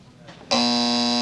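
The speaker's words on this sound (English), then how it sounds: "You were pointing him out while the buzzer was hitting." A game show buzzer from the 1985 syndicated Sale of the Century sounds abruptly, a loud sustained electronic tone that holds steady after a faint stretch of background.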